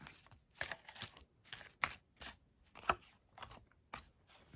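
Tarot cards are shuffled in quick bursts of riffling and slapping, several short rustling passes with small gaps between them.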